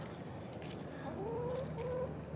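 A chicken named Big Chicken clucks in a backyard coop, giving a few short, wavering calls over a steady low background hum. The calls are moderately distant and soft.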